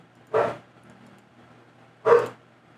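A dog barks twice, each a single short bark, with a quiet pause between them and no talking.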